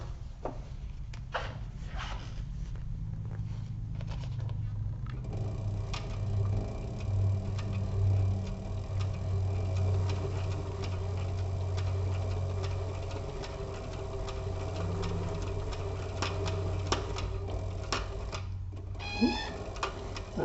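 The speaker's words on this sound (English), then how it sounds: "That popping noise is me putting a little bit of pressure on this needle and it's hitting the hook underneath." A sewing machine running while stitching a crossbody bag, its needle giving soft repeated pops as it strikes the hook underneath, over a steady low motor hum and ticking mechanism, close and moderately quiet.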